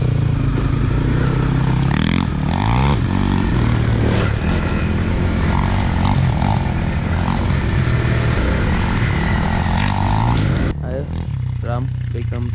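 Motorcycle climbing an uphill road during a rider's vlog, its engine droning loud and steady close by throughout, with rising revs and a drop in level near the end, under occasional talk.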